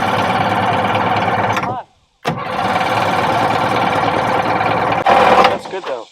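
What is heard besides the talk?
barn find jet ski engine starting and running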